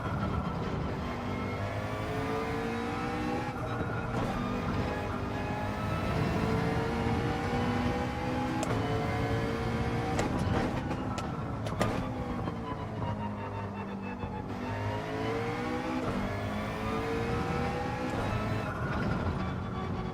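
A race car in Gran Turismo 7 howls through its gears, the engine pitch climbing in long sweeps and dropping sharply at several shifts and lifts, loud and continuous without talk.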